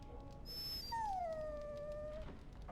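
Dog in the Dragon Age: Origins video game letting out a long, high, drawn-out whine that slowly falls in pitch, with a short higher whimper before it, faint over a low background rumble.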